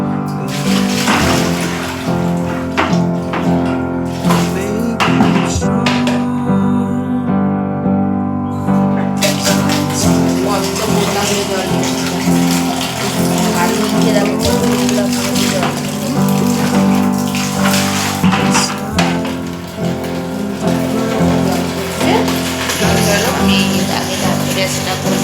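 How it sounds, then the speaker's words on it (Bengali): Water runs from a bathroom tap in a continuous loud splashing stream, now flowing better after cleaning, heard up close throughout with someone talking over it. "চলো আমি বাথরুমে যাই, বাথরুমে কলটা ছেড়ে দিই।"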